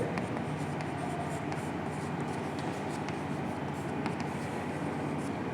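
Pen or marker scratches steadily as the word temperature is written out, a continuous close scraping with small strokes and taps, no voices.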